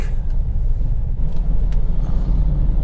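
Cabin rumble of a Mazda BT-50 automatic pickup creeping through heavy city traffic, a steady low engine and road drone with faint passing noises, no talk.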